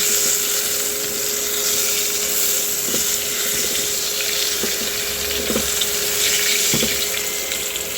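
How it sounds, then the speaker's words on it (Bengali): Eggplant slices frying in hot oil for a sea fish curry, a steady loud sizzle and hiss throughout with occasional soft clinks, no talking. "আমি বেগুনগুলো সব এভাবে একটু ভেজে নেব"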